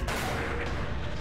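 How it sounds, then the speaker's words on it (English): A pistol shot fired during a turn-based fight in the dark fantasy game Darkest Dungeon, a single loud, dense burst that fills the short moment with a rumbling low body. "Let's pistol shot this guy."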